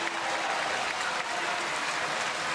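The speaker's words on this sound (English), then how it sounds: "And for the most part, he gets applause." A spring training baseball crowd applauds Carlos Beltran, a steady wash of clapping heard from a distance with no break for the whole moment.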